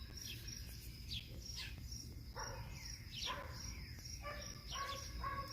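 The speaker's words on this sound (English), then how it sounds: "little female downy woodpecker." A small female downy woodpecker calls outdoors from a deck, with faint, sharp chirps and call notes repeating at a distance over quiet background noise.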